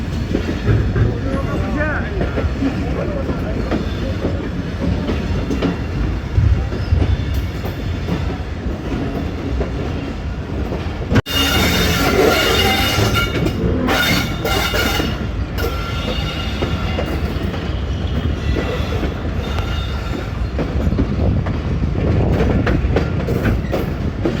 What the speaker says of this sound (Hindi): दो बज के 40 मिनट पे 11 अब हज़ारा एक्सप्रेस रावलपिंडी रेलवे स्टेशन पे अप्रोच बना रही है